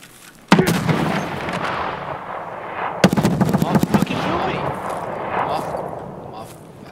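Gunfire in Escape from Tarkov: a sharp close shot, then after a pause a rapid volley of loud bursts, with voices talking over the din.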